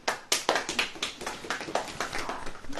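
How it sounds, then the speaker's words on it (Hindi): A church congregation claps along at a service, a dense run of sharp, bright hand claps repeating in an uneven, rapid rhythm at steady volume throughout. "ताली बजाएं।"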